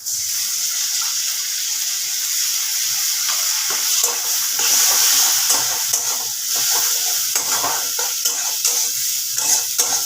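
Ginger garlic paste hits a hot pan for a bottle gourd ghonto, giving a loud, steady frying sizzle throughout with a few light scrapes of stirring and no talk.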